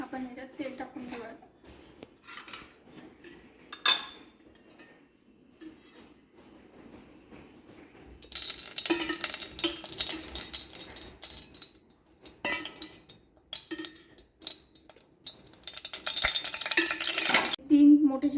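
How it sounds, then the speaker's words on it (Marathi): Oil is poured into a hot pan for Shimpi amti, then a loud, hissing sizzle rises and continues in bursts alongside light clinks of a spoon, heard close while someone talks. "पॅन गरम झालेला आहे, आपण ह्याच्यात तेल टाकून घेऊया।"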